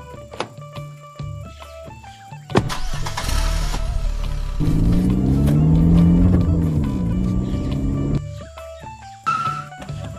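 A car engine cranks and turns over, then idles with a rising, growling rumble for several seconds before cutting off, with musical tones around it.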